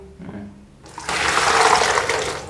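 Rinse water being dumped out of a container, starting with a faint trickle and then swelling into a loud, steady, close rushing splash that runs on without letup.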